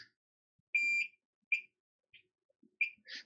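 A digital multimeter in diode mode probes a smartphone logic board for shorts, giving one longer electronic beep followed by a few short, quiet beeps at uneven intervals, with faint handling taps in an otherwise quiet room.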